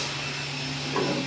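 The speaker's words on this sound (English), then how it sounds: "This is a 5-axis machine, so it has a B-axis which can turn the head in any direction" A 5-axis CNC machine engraving cabinet wood in an Indiana cabinet factory gives a steady, loud whooshing hiss that runs throughout, with a slight rise in pitch near the end.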